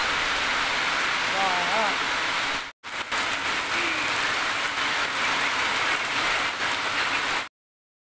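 Steady rain pours down in a dense, even hiss, broken once by a brief near-silent gap and ending abruptly.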